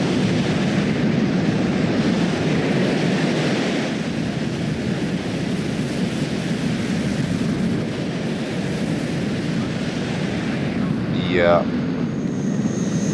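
Loud, continuous rumbling engine roar of helicopters attacking in the video game WARNO, with heavy low-frequency noise, a brief whistling sweep near the end, and a short spoken word.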